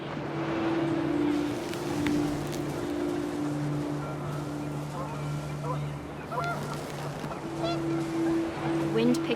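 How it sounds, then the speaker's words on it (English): Panicked geese honk in a windy outdoor scene from the video game What Remains of Edith Finch, with a steady low hum and wind noise beneath scattered honks throughout. "panicked geese appeared and quickly went"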